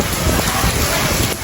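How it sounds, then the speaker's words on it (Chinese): Heavy rain falls during a typhoon in Guangzhou, a dense, loud, continuous wash of rain with wind buffeting the microphone. "带大家看看这里的下雨广州的现状"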